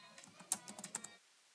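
Rapid keystrokes on a computer keyboard while Java code is entered, a quick irregular run of close, crisp clicks lasting about a second before stopping into silence.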